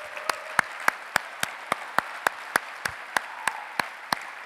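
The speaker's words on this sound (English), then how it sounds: "So a huge round of applause for the organizers" Clapping for the organizers at the Front-Trends 2017 conference comes as a sparse, even run of sharp individual claps, about three or four per second, moderately close and with no talk over it.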